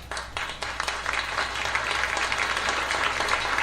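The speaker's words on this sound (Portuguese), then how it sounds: "Aplausos merecidos, né?" Audience applause at a Brazilian livestock and agribusiness talk show event, a steady wash of clapping over low room hum, fairly distant and sustained for several seconds.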